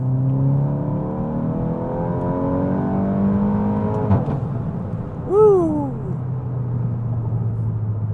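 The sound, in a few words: VW MK8 GTI accelerating in third gear pull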